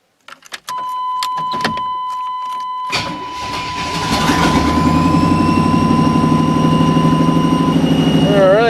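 An old, rusty Chevrolet Silverado pickup with doubtful brakes clatters and cranks, then its engine starts and settles into a loud, steady running drone as the truck pulls away. Brief knocks and a steady tone come before the start.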